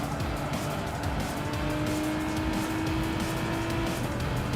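A race car in Gran Turismo roars at steady high revs through a wide corner at Spa, in fourth gear, with faint tire squeal riding under the dense, continuous engine drone.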